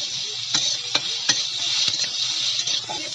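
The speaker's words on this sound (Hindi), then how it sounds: "थोड़ा सा लाल कर लेना है प्याज को।" Onions frying in a pan, a steady bright sizzle with a spoon stirring and scraping through them in several distinct strokes, close and alone.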